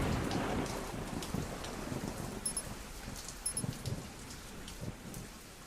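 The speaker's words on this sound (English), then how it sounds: "The rain is easing up." Steady rain pours down in the zombie survival game Zafehouse Diaries, a dense continuous hiss with a few low rumbles of thunder underneath, filling the whole scene without any voices.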